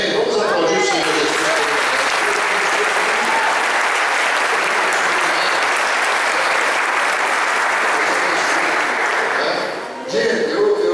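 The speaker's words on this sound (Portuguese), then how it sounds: "Vamos aplaudir o Senhor." A church congregation at the close of a 40-day fast applauding in praise, producing a loud, dense, unbroken roar of clapping that holds steady for about ten seconds before a voice returns.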